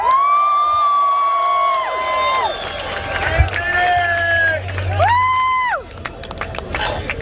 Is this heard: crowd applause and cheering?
yes